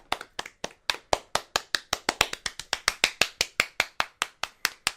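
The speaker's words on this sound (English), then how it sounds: "We're not done clapping for ourselves yet." Podcast hosts clapping for themselves in a studio, a quick, steady run of about twenty-five sharp, close hand claps with no talk over them.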